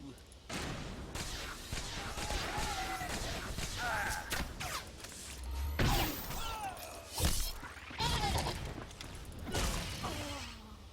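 An aerial barrage of blasts from a Death from Above strike in Star Wars: The Old Republic: repeated sharp impacts and shattering bursts, with several louder hits around the middle and end, over continuous game noise.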